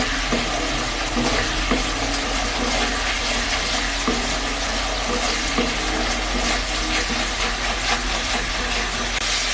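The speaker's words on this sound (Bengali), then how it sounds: "মশলাটা আমার প্রায় ভাজা হয়ে গেছে।" Spice paste frying in a pan for a potato and prawn curry, a dense continuous sizzle with scattered stirring clicks and scrapes throughout, close and fairly loud, no talking.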